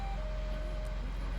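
A vehicle in Farming Simulator 17 gives off a steady, faint electronic beep tone over a low engine rumble, with no talking.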